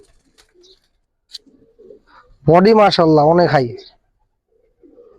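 Giribaz army pigeons on a rooftop give a loud, close coo lasting about a second, with quieter rustles and someone talking around it.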